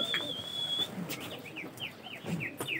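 Trained homing pigeons resting after a flight session, with soft bird calls and short chirps plus a thin sustained whistle, faint against a quiet outdoor background.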